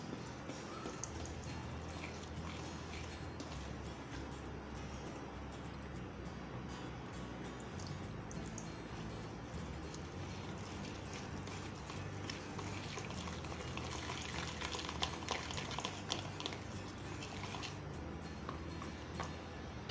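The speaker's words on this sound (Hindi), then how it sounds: "अब इसके अंदर मैं थोड़ा थोड़ा पानी डाल के इसका लिक्विड बैटर बना लूँगी।" Water poured bit by bit into gram flour and stirred into a runny batter for green chilli fritters, a quiet continuous wet sloshing and mixing that carries on for the whole stretch.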